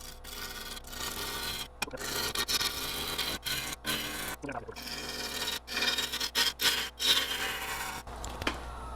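Heavy roughing cuts on a maple blank spinning at about 750 RPM on a wood lathe, a harsh continuous scraping and tearing with short breaks as the tool lifts off, loud and close.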